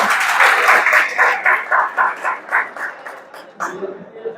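Audience at a stand-up comedy show clapping in rapid, uneven bursts that thin out into scattered claps, with voices mixed in.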